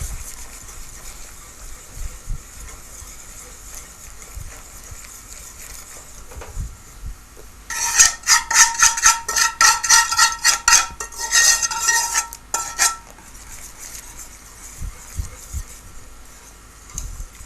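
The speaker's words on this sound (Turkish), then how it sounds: "Tabak olmaması için iyice karıştırıyorum." Metal spoon scraping and clinking in a pot of red lentil soup thickened with a flour-and-butter roux, a quick burst of rapid rhythmic stirring strokes up close, with quieter knocks before and after.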